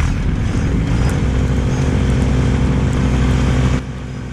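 A Kubota LX2610 compact tractor runs with a rear snow blower, a loud, steady engine drone and blower roar that holds constant, then drops slightly in level near the end, with no talking.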